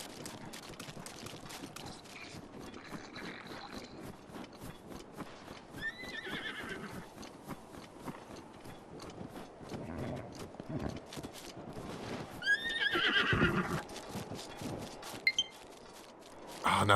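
A horse in Breath of the Wild neighs and whinnies while its hooves clip-clop steadily, set within game sounds and music, with a person talking over parts of it.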